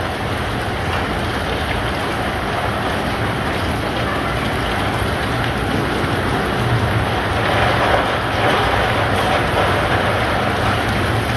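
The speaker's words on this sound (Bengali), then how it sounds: "এই যে বৃষ্টি হইতে আছে" Rain falls steadily and heavily on a cloudy day, an even, loud hiss that runs without a break from start to finish, with no voices.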